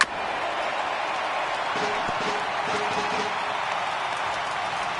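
A baseball crowd of more than 37,000 rises to its feet with a late-inning Yankees game on the line, making a steady broad roar of cheering that holds throughout, with a few faint claps and knocks in the middle.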